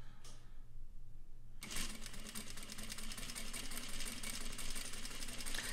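A sewing machine stitches a dart down angled fabric, starting after a brief quiet moment and then running as a steady, close, fast mechanical whir without pause.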